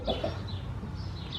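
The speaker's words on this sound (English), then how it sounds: "It's a boy, it's a rooster." Rooster on a family farm giving short, low clucks, close by and fairly quiet, with no talking over it.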